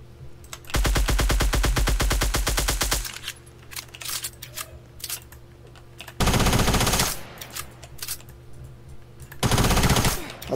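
Rapid automatic gunfire in Roblox Fortblox comes in three loud bursts, the first lasting a couple of seconds and the later two shorter, with quieter clicks and game sounds in between.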